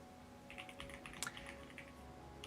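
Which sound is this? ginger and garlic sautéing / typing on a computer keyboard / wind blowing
typing on a computer keyboard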